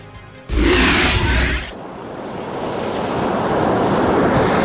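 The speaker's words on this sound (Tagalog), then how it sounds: "medyo malalaki pa rin ang alon" Large ocean waves in Laoag City, Ilocos Norte crash loudly nearby, a big surge of surf roaring briefly before settling into a steady wash of water and wind noise.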